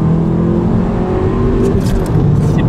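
A turbocharged Lotus car accelerates hard, a loud, steady engine drone with rising pitch and whirring turbo noise throughout, recorded close from inside or just behind the car.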